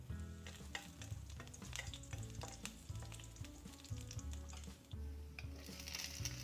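Carrots and potatoes sizzle and fry in hot cooking oil in a pan for a beef caldereta, with steady crackling and repeated scraping stirs close by, no talking.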